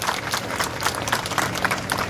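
A crowd applauds at a political speech rally in Gorakhpur, steady dense clapping throughout with no pauses.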